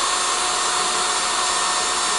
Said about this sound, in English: this little bolt's a little harder than I thought, but it's drilling